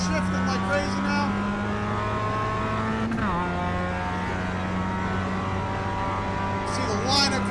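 A race car engine in the iRacing sim, droning steadily with a sharp drop in pitch as a gear shift lands midway, loud and continuous, with other cars' engines faintly audible.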